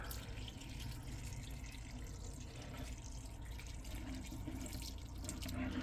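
Water is poured onto a large repotted Rhaphidophora plant, a faint, steady trickle and splash that carries on without pause and with no talking.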